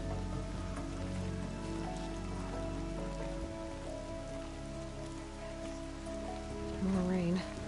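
Steady rain falls on surfaces in the Horizon Zero Dawn game world, a dense even patter with no pauses that swells briefly near the end.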